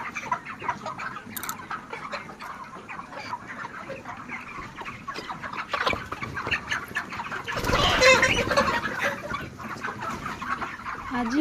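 A flock of around 2,800 chickens at a poultry farm clucks and chatters steadily. The clucking rises into a louder, busier burst partway through, with scattered wing and background noises.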